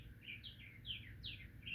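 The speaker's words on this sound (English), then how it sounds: "Listening to the loudest bird ever" Outdoor bird calling in quick, repeated rising chirps, a short run of bright notes that sound faint and somewhat distant.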